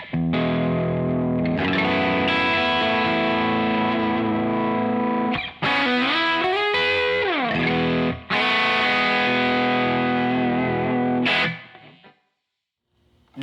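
Electric guitar, a Duesenberg, played through a Cali pedal into a ToneX setup, ringing out sustained distorted chords and notes with long decay, two brief breaks, then fading to silence near the end.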